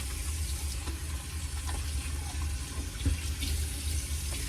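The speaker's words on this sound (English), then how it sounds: "Let me wash my face." Tap water runs steadily into a sink while someone washes their face, a continuous broadband splashing hiss with small irregular spatters, close and alone with no voices.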